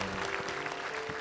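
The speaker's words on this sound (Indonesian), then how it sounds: "oh tepuk tangan dong" A studio audience applauds on an Indonesian comedy talk show in a short, dense burst of clapping that fills the whole moment.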